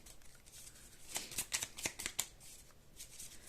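Tarot cards are shuffled in a quick burst of soft riffling flicks, close and quiet, with a faint hiss around them.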